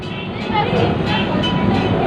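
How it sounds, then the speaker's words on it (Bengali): Steady rumbling ride inside the front car of a two-car tram, a continuous rolling rail noise with a voice talking over it throughout. "এখন আমরা বসে আছি ঠিক ট্রামের প্রথম কক্ষে দু রুমের ট্রাম"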